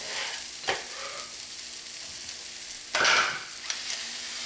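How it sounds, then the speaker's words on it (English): Mushrooms fry with browned onions in a pan, a steady sizzling hiss broken by a couple of louder stirring scrapes and a bright clink near the middle, close up with no speech. "when the onions start to brown, then we add the mushrooms"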